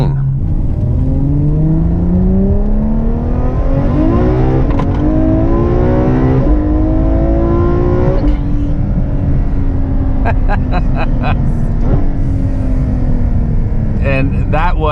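A Ferrari F12 with a naturally aspirated 6.3-liter V12 accelerates hard at half throttle, climbing through gears with a rising howl and quick upshift breaks, loud and steady from inside the cabin.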